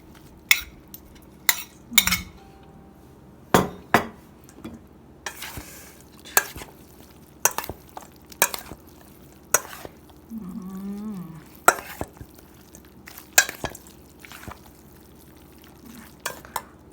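A fermented fish khanom jeen noodle salad is stirred in a bowl, with close, sharp utensil clinks at irregular intervals and soft wet scraping between them.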